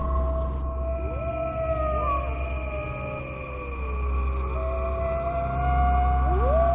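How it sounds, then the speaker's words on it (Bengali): Jackals howl in long wavering cries that rise and fall over a steady low rumble of heavy rain, several drawn-out cries overlapping and fading in and out at a distance. "অনবরত মাংস খেকো শিয়ালের ডাক"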